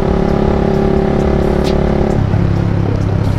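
A Yamaha Aerox scooter engine hums close by at steady revs, then the pitch drops as the throttle eases, loud and continuous with no talking.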